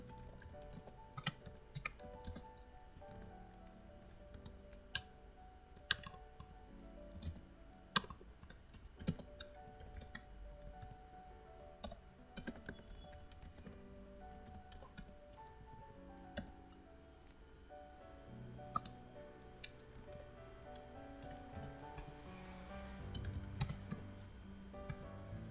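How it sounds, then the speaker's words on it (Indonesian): Typing a JavaScript script on a computer keyboard: faint, irregular key clicks in short bursts and pauses, heard alone in a quiet room. "Kita ketik scriptnya."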